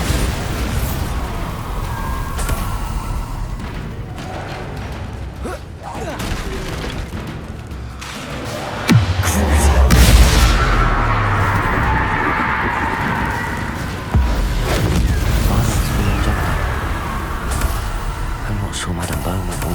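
In Hogwarts Legacy, Bombarda spell blasts set off loud booming explosions with deep rumbling bursts amid constant combat noise, and a voice speaks throughout.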